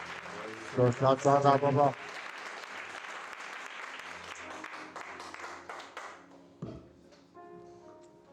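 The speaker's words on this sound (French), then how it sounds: "Si tu veux acclamer, acclame bien." A church congregation applauds in a continuous spread of clapping under a preacher's voice, with a loud burst of voice near the start and a sharp knock later before the clapping thins out.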